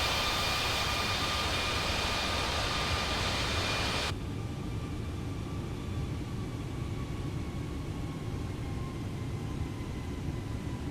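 An Airbus A320neo in Microsoft Flight Simulator climbs after takeoff, a steady broadband roar of engines and airflow that drops abruptly to a quieter, thinner hum partway through, with no voices.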